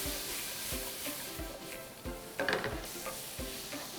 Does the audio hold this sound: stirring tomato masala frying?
yes